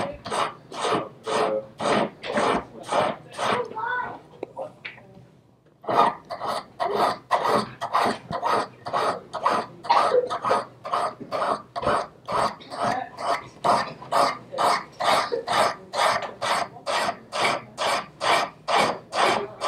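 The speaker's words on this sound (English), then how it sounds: "the file is gently stroking along in successively fine rolled strokes to create that final form" A hand file shapes a Japanese decorative seppa spacer in fine rolled strokes: a near, steady series of rasping strokes in even rhythm, a short pause, then a long regular run of scrapes.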